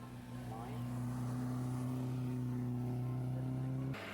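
An MG Midget races up the Wiscombe hill climb course, its engine holding a loud, steady drone at near-constant pitch throughout, close to the microphone, before cutting off sharply at the very end.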